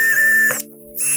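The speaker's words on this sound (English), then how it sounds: "I'm drilling into safety equipment" A power drill bores into a plastic safety helmet, a steady whining buzz with strong tonal hum that cuts out briefly mid-way before resuming, close and loud with no talk.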